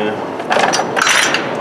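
A ratchet tightening a bolt on a Jeep 4.7 engine during cylinder head work: short, quick metallic clicking bursts, close and fairly loud, with no talk over it.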